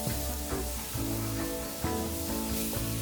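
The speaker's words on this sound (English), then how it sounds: "in some oil, crackle cumin seeds and add green chilies and chopped onions" Cumin seeds, green chilies and chopped onions sizzling in hot oil, a continuous dense crackle and hiss, close and fairly loud, with faint tonal hum or music in the background.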